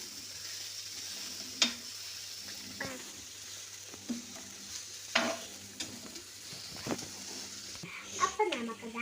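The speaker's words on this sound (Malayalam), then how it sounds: "നമ്മൾ കുറച്ച് വഴറ്റി കൊടുക്കാം." Clam meat being sautéed in a pan with salt, with a quiet steady sizzle under occasional scraping and stirring clicks of a spoon against the pan.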